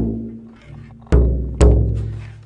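A smaller, higher-pitched bodhrán-style frame drum is hit twice with a hard mallet, giving two sharp, booming strikes about half a second apart that ring and decay after a low hum.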